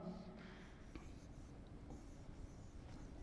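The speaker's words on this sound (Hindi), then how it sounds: "मैं यहां पर नेम लिखता हूं" Marker or chalk strokes on a classroom board as names are written out, faint scratchy scribbling with small taps between strokes over a low room hum, no voices over it.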